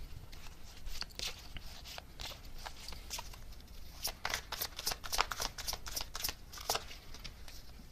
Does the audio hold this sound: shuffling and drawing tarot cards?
yes